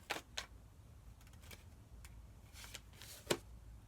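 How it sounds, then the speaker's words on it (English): Tarot cards are shuffled in a quiet room: a few faint, soft, brief riffles and taps scattered irregularly over a few seconds, close but low in level. "I'm going to keep shuffling."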